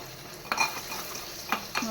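Chilies and curry leaves sputter in hot oil in a small tempering pot, a close sizzle with a few sharp clinks and scrapes from stirring.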